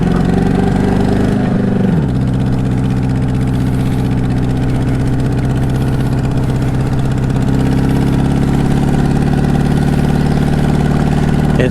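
A motorcycle engine runs steadily after a carburetor adjustment. A loud, close, continuous rumble keeps going throughout, with a brief dip and change in pitch near the start, then an even, throbbing idle.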